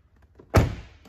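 Driver's door of a Buick Encore swings shut with a single solid thunk, close and loud, set against a quiet interior with no talking.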